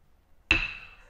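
One sharp strike of an auctioneer's hammer at a livestock auction in Eduardo Castex, La Pampa, a single loud, close knock with a short ringing tail after a near-silent lead-in.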